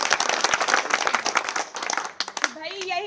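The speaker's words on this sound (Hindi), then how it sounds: "एक बार तालियां हो जाए भाई साहब के लिए।" Outdoor village crowd clapping for a local man during a street discussion, a lively burst of many hands that thins and breaks off, followed by a voice starting to speak.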